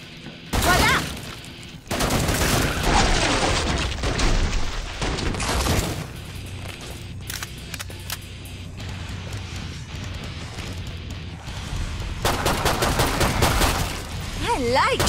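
Gunfire from shooting Zeds in the video game Killing Floor 2, bursts of shots at close range over constant game action and noise, with a dense burst near the start and louder volleys returning toward the end.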